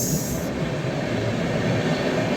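Rumble of the Rajdhani Express running alongside and overtaking the Goa Express: a loud, close, continuous rattle of wheels and carriages, steady throughout with no talk.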